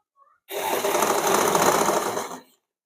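Sewing machine top-stitching the front strip of a blouse in a single close, loud, steady run of rapid stitching lasting about two seconds, with quiet before and after.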